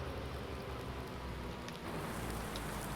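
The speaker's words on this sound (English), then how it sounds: "It is raining, but I don't think that'll affect ploughing at all." Steady rain falls in Farming Simulator 19, a dense, even hiss of drops pattering on surfaces that continues without a break.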